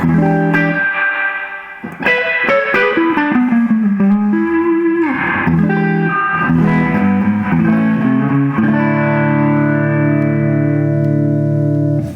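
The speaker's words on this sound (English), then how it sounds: "It's just a spring reverb. There's an actual tank in the bottom." Electric guitar chords and single notes through a Mesa/Boogie F50 amp's spring reverb tank, with a splashy, washing tail that lingers after each strum; loud and close.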